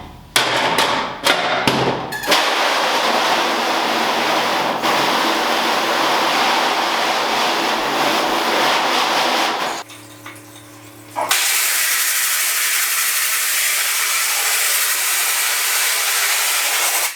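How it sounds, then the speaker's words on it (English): A steady, loud hiss of water spray blasting a design out of a screen-printing screen, preceded by a few thumps, briefly cutting out before resuming strongly. "Make sure you wet the screen before trying to blast the design out."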